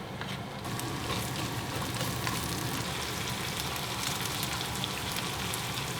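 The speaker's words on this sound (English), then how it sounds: "Use this oil to fry the chopped onion and crushed garlic." Chopped onion and crushed garlic fry in hot oil in a pot, giving a dense, continuous sizzle with fine crackling and no voices over it.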